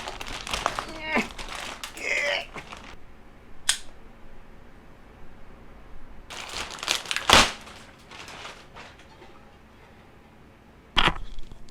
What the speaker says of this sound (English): let's pull the papers out of this goddamn plastic bag